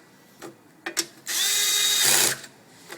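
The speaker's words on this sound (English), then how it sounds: "I use a 1/4 inch impact wrench by Snap-on." A Snap-on 1/4 inch impact wrench snugs down gas tank bolts on a Briggs and Stratton John Deere lawnmower, with a couple of short blips and then a loud, steady whirring burst of about a second, heard close up.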